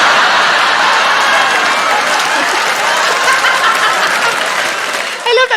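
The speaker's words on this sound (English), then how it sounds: "I love that there's a lady cheering" Stand-up comedy audience breaking into loud, sustained applause with a woman cheering among the crowd, clapping dense and close before tapering off near the end, with voices mixed in.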